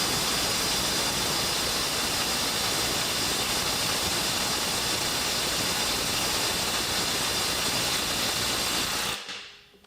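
A Snap-on CT-9010 mid-torque cordless impact wrench hammers steadily and loudly on a stuck bolt for about nine seconds, breaking it free, then cuts off abruptly.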